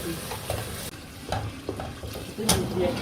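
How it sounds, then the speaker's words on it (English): Onion and garlic going into a hot pan for Nigerian jollof rice, giving a sizzling fry with stirring and clattering utensil knocks throughout, close and moderately loud, with no talk. "we're going to put our onion and garlic in"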